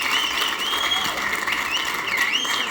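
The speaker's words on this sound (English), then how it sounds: "So really big applause" Audience at an equine product launch presentation applauds in a dense, sustained burst of clapping that stays loud and even throughout.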